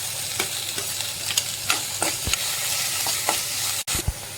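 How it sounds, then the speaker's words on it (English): Chopped onions, garlic and green chilies frying in oil in a kadai, a close steady sizzle with a few quick stirring scrapes over about four seconds, no voices. "Now I will add fine chopped onions."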